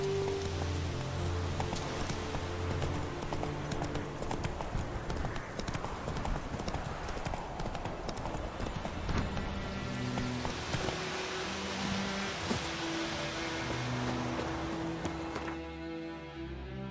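Roach the horse trots through rain in The Witcher 3, steady hoof clip-clops over a constant patter of falling rain with music underneath.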